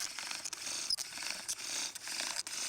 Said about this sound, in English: is preparing the end of that staff to make a sawdust